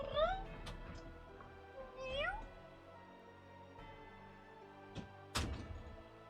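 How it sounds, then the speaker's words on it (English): Cat meowing inside Final Fantasy XIV, several rising, wavering meows near the start and again around two seconds, followed by a couple of sharp thuds and clicks against low in-game ambience. "There is a cat in here."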